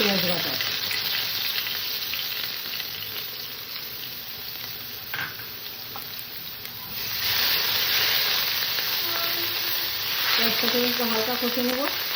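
Nigella seeds fry in a little oil while eggplant is cooked, a constant loud sizzle that swells partway through, with brief stirring sounds and a voice speaking near the end.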